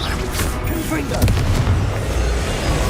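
A Confringo blast spell in the Hogwarts Legacy video game erupts as a deep, booming explosion with a rumbling low-end tail, continuous and loud across the whole moment with crackling debris layered on top.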